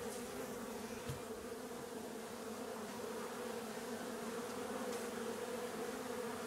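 Honey bees swarm around hive supers during a honey harvest, a bee escape fitted. Their steady, dense buzzing drones on without a break, fairly close and even in level throughout.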